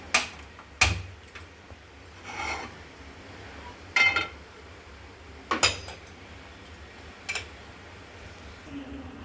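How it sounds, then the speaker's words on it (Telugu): A pan goes onto a lit stove for egg porottu, producing several sharp, separate metallic clanks and taps spaced out over a quiet kitchen background. "స్టవ్ వెలిగించి ప్యాన్ పెట్టుకుందాం."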